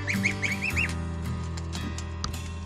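Goslings nearly a month old give a quick series of high, rising peeps at the start, then fall quiet against a low background hum.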